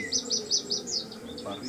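A bird at a pigeon loft gives a quick run of repeated high chirps, close and fairly loud, over a low background murmur.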